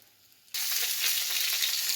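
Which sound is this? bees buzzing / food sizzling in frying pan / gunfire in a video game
food sizzling in frying pan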